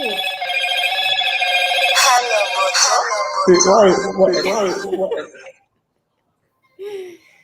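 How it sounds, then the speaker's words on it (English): A telephone rings in a steady electronic tone for a few seconds, then gives way to laughter and excited talk nearby before a brief pause. "I can't answer that, man. It's the phone."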